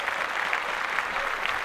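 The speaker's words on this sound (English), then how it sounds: "Yeah, and round of applause." Applause from a group fills a short moment, a steady dense patter of clapping with no break and no talk over it.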